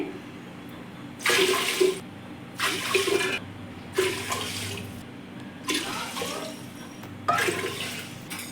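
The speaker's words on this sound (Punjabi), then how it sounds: "7 ਬਾਟੀਆਂ ਇੱਥੇ ਆਪਾਂ ਪਾਣੀ ਦੀਆਂ ਪਾ ਲੈਣੀਆਂ ਨੇ" Water pours into a cooking pot of dal in five separate bursts, each lasting under a second, with short pauses between them. Steady splashing close by and no talking.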